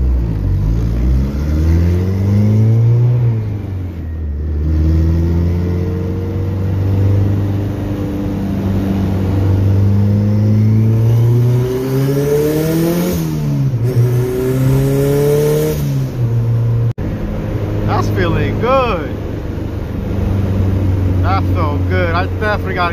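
A turbocharged B20 VTEC Honda Civic accelerating hard under boost, engine note climbing repeatedly through the gears, loud and close from inside the car, with voices talking and whoops over the sound.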